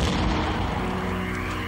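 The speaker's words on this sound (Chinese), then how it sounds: "随着几声爆炸声传来" A car's fuel tank blows up after a sniper rifle shot in the film The Voroshilov Sharpshooter, a loud, rumbling boom that fills the short clip and slowly fades.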